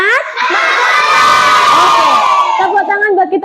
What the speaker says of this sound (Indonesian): Oke, tepuk tangan buat kita semua dulu.